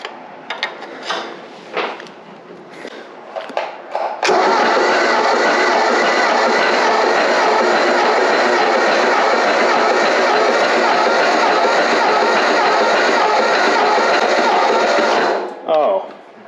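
An abandoned Ford tractor engine catches and runs with a loud, steady, rough roar for about eleven seconds before cutting off, following a few seconds of people talking.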